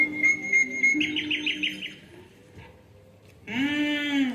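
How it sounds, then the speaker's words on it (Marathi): Birds chirping in a devotional stage skit, with a quick run of high, bright tweets repeating in a steady series before a voice briefly comes in over a quiet background. "हे पक्ष्यांचं चूचू करणं"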